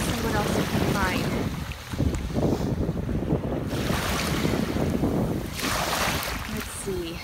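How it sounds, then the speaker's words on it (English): Ocean surf rolling and crashing onto the sand at Sanibel beach, steady loud washes with wind buffeting the microphone, no voices. "Hearing the crash of the waves"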